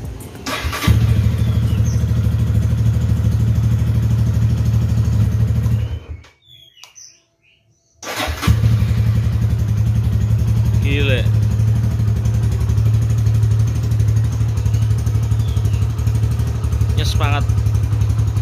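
A 2011 TIREV motorcycle with about 5,000 km, choke partly on, is started in a garage: a steady idle runs, cuts out for a couple of seconds, then restarts and idles evenly, with faint birdsong in the background.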